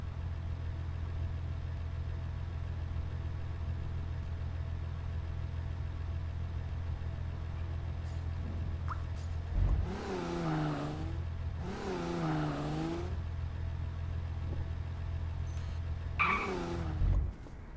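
A Toyota Supra engine in the Garry's Mod video game hums at a steady low drone throughout, with brief louder tire or rev bursts near the end.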